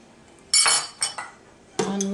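A metal tablespoon clinks against a blender jar or bowl while flaxseed goes into a papaya, mango, pineapple and banana breakfast smoothie: three or four short, bright taps in a quiet kitchen.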